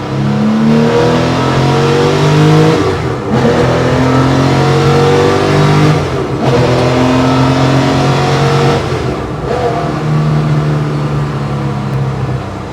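A 1995 Porsche 911 (993) Carrera RS 3.8 Clubsport engine revs hard in repeated climbing pulls, each rising in pitch before a short break, loud and close throughout.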